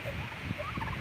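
Farm turkeys being let out of their pen, gobbling in a brief, busy burst of overlapping calls at close range.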